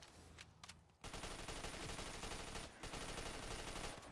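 MP40 submachine gun firing in Call of Duty Zombies, a dense, continuous stream of rapid automatic shots after a few short opening bursts, loud and close with a brief pause near the middle.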